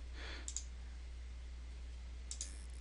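Two faint, sharp clicks of a computer mouse being right-clicked, spaced about two seconds apart over a quiet background hum.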